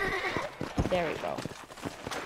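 A horse in the Red Dead Redemption video game whinnies and clip-clops, with a tonal neigh and hoofbeats mixed with a person talking over it.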